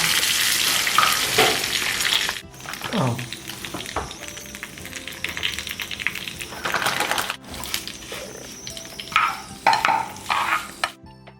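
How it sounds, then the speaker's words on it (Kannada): Dal being tempered with spices in hot oil, a steady crackling sizzle with stirring and scraping, loud and close, broken by a few abrupt cuts; no talking. "ಬೇಳೆ ಎಲ್ಲ ಹಾಕಿ ಒಗ್ಗರಣೆ ಹಾಕಿದರೆ ಭಾರಿ ಖುಷಿ"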